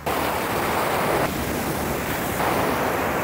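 Sea waves wash onto a beach in Oman in a loud, continuous roar of surf, with wind buffeting the microphone and no voices over it.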